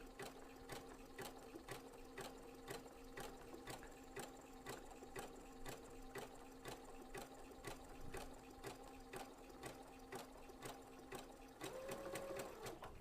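A sewing machine stitches continuously at a fast, even rhythm for free-motion curves and swirls as fabric is guided under the needle, close and steady with no talking.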